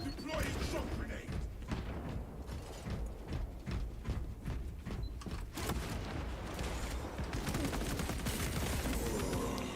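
Rapid auto bolter gunfire in a loyalists-versus-heretics multiplayer battle of Space Marine 2, clattering steadily for nearly ten seconds amid mechanical clanks and dense game noise.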